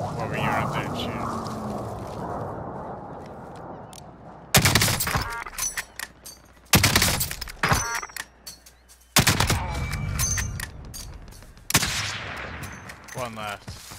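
Gunfire in the video game Call of Duty: Warzone, loud broadband bursts of shots in several separate volleys with rapid automatic strings, mixed with game ambience, while players talk between and over the shooting.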